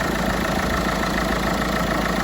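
A Peugeot 307 with a 1.6 HDi diesel engine idles with the bonnet open: a steady, loud, close clattering drone with a slightly knocking texture, unbroken for the whole clip.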